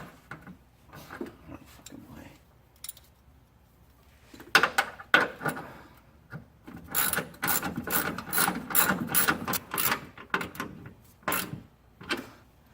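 A 13mm ratchet tightens fuel tank bolts on a 1984 Porsche 944 NA, giving bursts of rapid clicking pawl ratchets, sparse at first and then dense and loud, with brief metallic knocks between strokes.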